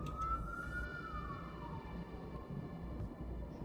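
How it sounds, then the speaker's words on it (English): An emergency vehicle siren passes outside, its wailing tone sweeping up and then gliding down, faint and distant beneath a steady low rumble of background noise, with no talking. "sorry if you can hear that siren, that's kind of annoying"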